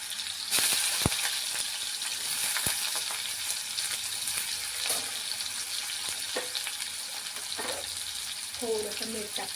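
Tender ridge gourd pieces, slit and cut for stuffing, sizzle and fry in hot oil in a home kitchen, with a steady hiss and a few sharp clinks and stirring scrapes.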